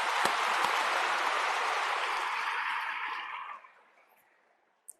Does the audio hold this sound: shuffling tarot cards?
no